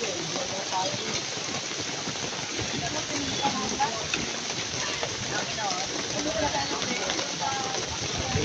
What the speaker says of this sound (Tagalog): makikita nyo ang tunog ng ulan